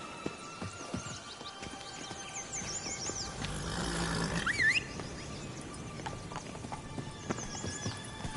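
The horse Roach from a video game trotting with a steady, close clip-clop of hooves, joined by a brief snort or whinny midway and faint bird chirps in the background.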